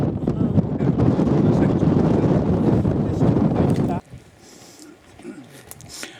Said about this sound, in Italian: adesso diventa vento